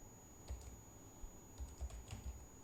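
Faint, close keystrokes on a computer keyboard while a datastore name is entered during a VMware ESXi home lab setup, a few scattered light taps over steady background hiss.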